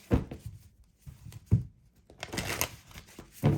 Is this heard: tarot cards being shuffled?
yes